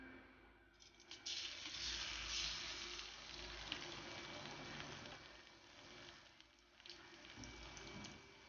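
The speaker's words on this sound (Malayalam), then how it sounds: "അതിനുവേണ്ടി ചൂടായ പാനിലേക്ക് എണ്ണ ഒഴിച്ചു കൊടുക്കാം. ഇതിലേക്ക് പ്രോൺസ് ആഡ് ചെയ്ത് കൊടുക്കാം." Prawns frying in hot oil in a pan for prawn biryani, a steady broadband sizzle that holds through the whole stretch with slight swells, close and continuous, with no voices over it.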